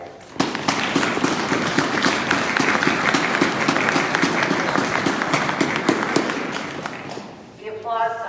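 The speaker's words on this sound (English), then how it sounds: "The applause sounds really interesting when it's muffled with the gloves on everybody's hands." Outdoor crowd applause at a groundbreaking ceremony for the Hotel Niagara, muffled by gloved hands, a dense steady patter of soft dull claps lasting about seven seconds before fading, with a voice starting at the end.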